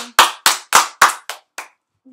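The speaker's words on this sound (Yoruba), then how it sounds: "Káre ọmọ dáadé pàtẹ́wọ́ fúnra yín." Children give seven sharp, loud claps in a quick, even rhythm that tapers off, followed by silence and a faint hum at the end.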